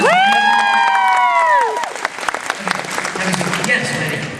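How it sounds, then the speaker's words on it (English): At a voice-acting panel at the Supanova 2013 convention in Melbourne, a loud cheering shout opens, then an audience breaks into lively applause mixed with whoops and cheers. "Give them a round of applause."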